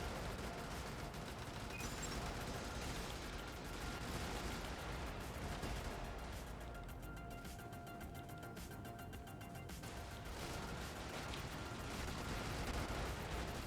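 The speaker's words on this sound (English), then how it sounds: "There's so much fire coming at me" Gunfire in the top-down mech game Brigador fills the whole stretch as a dense, continuous barrage of rapid shots and blasts at moderate loudness, with no talk.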